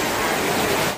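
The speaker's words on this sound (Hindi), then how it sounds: "आप लोग बारिश की आवाज़ को सुन सकते हो दोस्तों किस प्रकार से बरस रही है।" Heavy rain at night beats on the plastic sheeting of a waterproof tent pavilion, a dense, steady, loud hiss that fills the whole moment.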